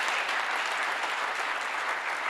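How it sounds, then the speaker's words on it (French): Church congregation applauding the Lord, dense steady clapping from a crowd filling the whole moment at even loudness. "Est-ce qu'on peut acclamer le Seigneur?"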